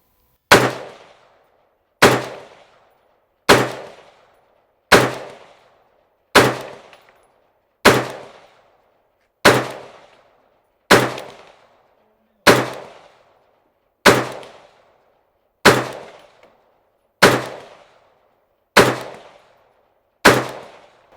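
Fourteen evenly spaced gunshots from PMC X-Tac ammunition, each a loud sharp crack with a short ringing decay, fired about every one and a half seconds in a slow deliberate rhythm, with no voices.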